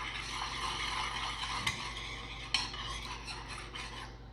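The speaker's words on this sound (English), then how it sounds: "Then we're going to give it a good stir" Spoon working through a chicken and potato casserole mixture in a dish, quiet scraping and stirring with a couple of sharper clinks against the pan, soft and close.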